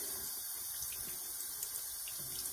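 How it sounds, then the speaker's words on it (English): A champagne glass rinsed under a running tap, a steady close hiss of flowing water filling the short stretch without pause. "Let me rinse it."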